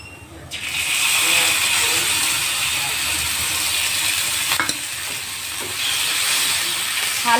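A spice paste goes into hot mustard oil with a sudden loud hiss that settles into a steady, bright sizzle with occasional stirring knocks, close up and without talking.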